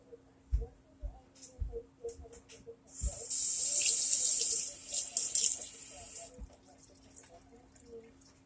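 Kitchen tap runs in a steady hissing burst for about two seconds while an onion is washed under it, with a few soft knocks and a voice speaking around it.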